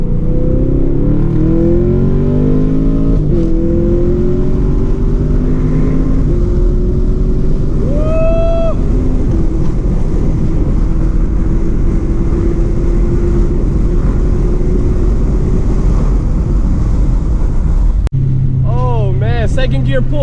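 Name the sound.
2017 Chevrolet Camaro SS accelerating in second gear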